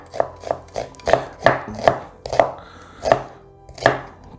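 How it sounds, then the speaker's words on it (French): A knife roughly chops ketchup ingredients, including garlic, on a board, giving about a dozen sharp, close thuds in an uneven but steady rhythm with no talk over them. "je vais couper grossièrement"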